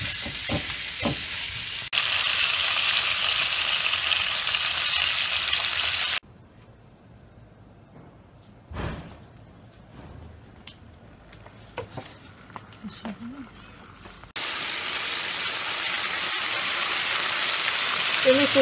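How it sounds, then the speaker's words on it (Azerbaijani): Food frying hard over a strong gas burner: a loud, dense sizzle runs for about six seconds, gives way to a quieter stretch with scattered knocks and small sounds, then the full sizzle returns and holds to the end. "Yəni belə qaz burada güclü olduğuna görə burada qızardıram ki,"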